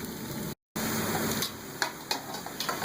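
Chopped onions frying gently in a pan for egg bhurji, a steady close sizzle with a few soft stirring scrapes and clicks, briefly cut to silence near the start.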